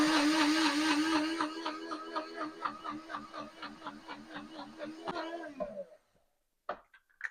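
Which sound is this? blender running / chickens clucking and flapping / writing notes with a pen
blender running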